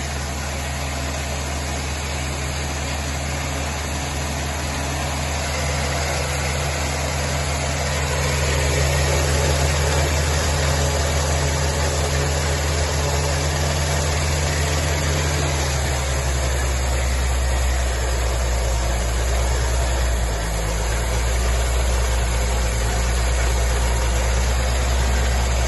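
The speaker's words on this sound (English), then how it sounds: "the iron head engines actually do seem to tick over a lot nicer than the alloy ones" Singer Vogue with an iron head engine ticking over at a steady idle, a low continuous mechanical hum and throb, close and fairly loud, the pitch shifting slightly partway through, with no talk.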